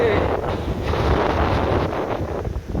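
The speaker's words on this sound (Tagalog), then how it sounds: "Walang ulan pero yung hangin sobrang lakas." Strong typhoon wind without rain roars and buffets the microphone continuously, with gusty rumbling and no other distinct sounds.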